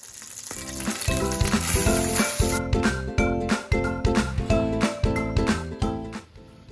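Zucchini cooking water poured into a hot sauce with chili flakes, a loud burst of sizzling and spitting oil followed by a rhythmic series of sharp stirring clinks and scrapes, close and clear.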